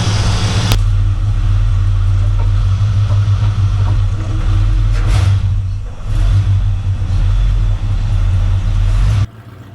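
A Ford Falcon XC 351 V8 wagon backing out of a shed into a yard, its engine a loud, steady, close low rumble with slight revving that runs throughout and cuts off abruptly near the end.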